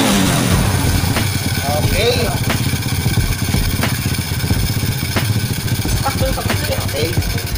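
A RUSI 125 motorcycle with replaced parts that still misfires and lacks power runs steadily close by, its rough engine drone broken by irregular popping stumbles throughout.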